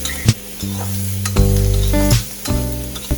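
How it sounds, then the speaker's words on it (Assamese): Pieces of pork sizzle loudly in a hot wok, rendering out their fat, while a spatula scrapes and stirs them in short strokes, with no voices. "এতিয়া এখন কেৰাহীত গোটেই মাংসখিনি অলপ অলপকৈ দি তাৰ গাৰ পৰা তেল ওলাবলৈ দিম, ভালদৰে লৰাই ল'ম"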